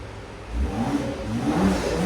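A 2025 BMW X5 xDrive50e hybrid with a 3.0L inline-six revs, its engine note rising and settling in a steady, fairly subdued drone with no voices.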